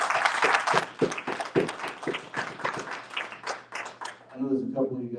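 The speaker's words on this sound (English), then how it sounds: "Give them a round of applause." The audience at a women's real estate panel applauds, a lively burst of close hand claps lasting several seconds that gives way to a voice speaking at the end.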